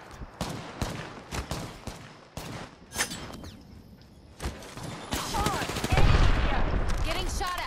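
Gunfire in an Apex Legends match: repeated sharp shots in scattered bursts at varying distance, building into denser, louder firing toward the end, with talk in between.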